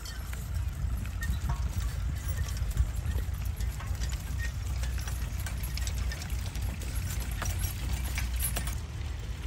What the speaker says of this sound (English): This gentleman is just turning these horses at the end of this furrow.